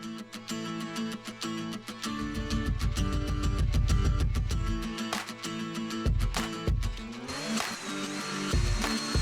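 A power drill driving screws into pallet wood pieces, with whirring motor bursts, ratcheting clicks and a few sharp knocks in a series of short, uneven passes, close and moderately loud.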